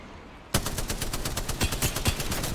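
Automatic gunfire from a Spitfire in Apex Legends breaks out after a brief quiet moment, then runs as a loud, rapid, steady stream of shots with no voices.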